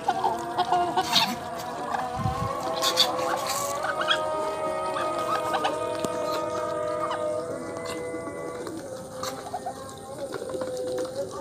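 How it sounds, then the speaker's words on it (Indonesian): Chickens clucking as they eat alongside Muscovy ducks, several birds giving repeated soft clucks and calls throughout, close and steady, with faint background noise. "ayam sayur sedang makan bersama."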